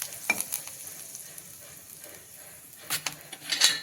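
Cumin seeds and curry leaves sizzle in hot oil for a Marathi alu vadi amti, a steady frying hiss broken by a few sharp crackles and utensil knocks near the start and end.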